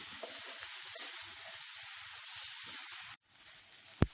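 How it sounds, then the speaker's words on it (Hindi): Finely chopped large onion sautéing in hot oil over a high flame, a steady loud broadband sizzle that runs unbroken for about three seconds, then drops away abruptly to a quieter hiss with a sharp knock at the end. "इसमें डालिए बड़े साइज की बारीक कटी हुई प्याज। हाई फ्लेम पे इसे अच्छे से सौटे कर लेते हैं।"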